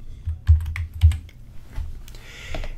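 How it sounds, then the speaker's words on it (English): Keystrokes on a computer keyboard, a short burst of separate taps spaced unevenly across a few seconds, close and fairly loud over a low background hum, with no voices. "So I'll just type lab."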